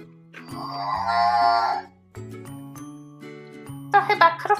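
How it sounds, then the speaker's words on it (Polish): A cartoon cow lets out a long, tonal moo among background music and jingling sounds from a Peppa Pig episode, followed by plucky musical notes. "To chyba krówka Milka"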